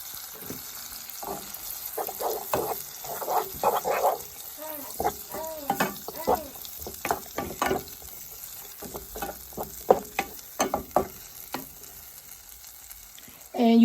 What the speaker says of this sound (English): I'm going to add in my garlic.